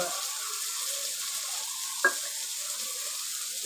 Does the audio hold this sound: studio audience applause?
no